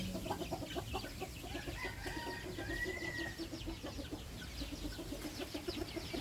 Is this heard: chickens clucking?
yes